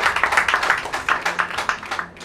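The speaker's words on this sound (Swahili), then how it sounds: "Wakina mama nilijua mtapiga makofi zaidi" An audience at a CD launch claps in a quick, uneven rhythm, a close burst of individual hand claps that thins out and fades near the end.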